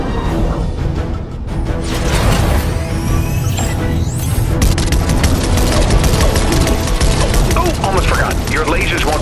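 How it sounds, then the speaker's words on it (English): Rapid bursts of synthetic laser fire and explosions from the battle bus's laser cannons in Fortnite crackle continuously under a busy, loud game soundscape with a voice talking over it. "I was hoping we'd have an excuse to try out the battle bus's laser cannons."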